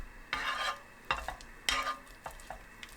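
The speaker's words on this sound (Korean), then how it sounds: "바닥이 익으면 긁어내듯 밀어주면서 몽글몽글하게 익혀주세요." Scrambled eggs stirred and pushed across a pan over very low heat, with a few distinct scraping strokes and a soft sizzle, close and clear with no talking.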